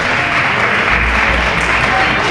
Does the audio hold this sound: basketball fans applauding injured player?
yes